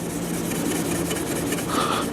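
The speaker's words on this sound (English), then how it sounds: "just slowly start scrubbing off all that old tarnish" Steel wool soaked with Brasso scrubs tarnish off old dining chair hardware in a close, continuous rasping rub with a faint squeak toward the end.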